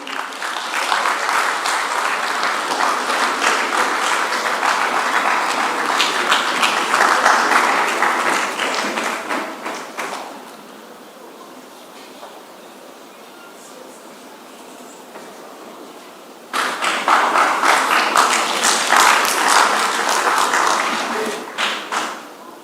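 Audience applause at a public lecture on TVET transformation in Africa, honoring the Vice Chancellor's representative: loud sustained clapping from a large crowd that dips to a quieter stretch in the middle, then swells again before trailing off.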